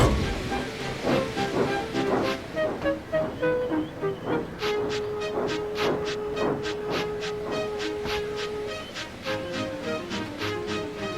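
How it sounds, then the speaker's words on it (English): Steam locomotive Gordon hisses and puffs, with rhythmic bursts of steam over a steady held tone and continuous rail-yard rumble, fairly close and loud throughout. "Gordon, with much noise and blowing of steam, got ready to back onto the train."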